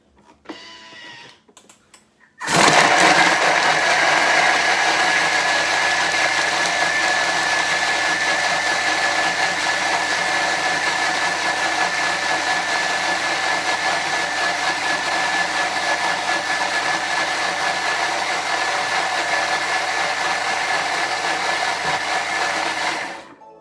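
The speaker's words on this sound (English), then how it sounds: "we're going to put it at 20 seconds, speed 8. So it's going to be a little bit loud" A Thermomix at speed 8 suddenly spins up to a loud, steady high-speed whirr and runs evenly for about twenty seconds before cutting off.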